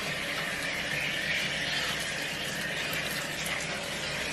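Warm water runs from a tap during a home dog bath, a steady, close hiss that stays even and continuous throughout without any speech.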